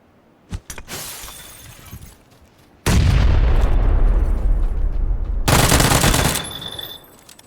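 A grenade explosion and gunfire in the video game PlayerUnknown's Battlegrounds: a few brief cracks, then a loud, sustained roaring blast and a rapid burst of shots lasting several seconds before fading, with no voices.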